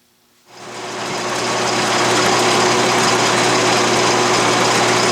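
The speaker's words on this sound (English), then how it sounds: "I'm milling a slot. And I'm feeding vertically right now." An Atlas lathe fitted with a milling attachment mills a slot in metal with vertical feed, starting abruptly and settling into a loud, steady whirring drone of motor and cutting.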